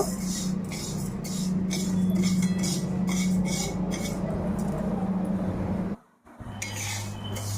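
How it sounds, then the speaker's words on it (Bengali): Moong dal being dry-roasted in a kadai, with a quick, regular rattle and scrape of stirring over a low hum, pausing briefly near the end before resuming. "হাফ বাটি মুগ ডাল আমি ভেজে নিচ্ছি এখানে কড়াইতে"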